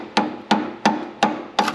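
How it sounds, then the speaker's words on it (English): Five evenly spaced sharp taps from a soft-jawed hammer striking a BBK underdrive pulley on a car engine, each a crisp knock with a short decay, close and alone. "Got my soft jawed hammer and I don't want to screw this pulley up."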